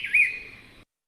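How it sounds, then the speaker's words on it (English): A brown-cheeked fulvetta, a babbler species, gives one short, high call with a brief rising-falling note, clear and close, ending abruptly in silence. "this is the call of a brown-cheeked fulvetta, a babbler species"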